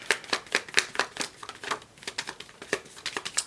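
Tarot cards being shuffled by hand, a quick run of crisp riffling flicks and taps, close and fairly quiet with no talking.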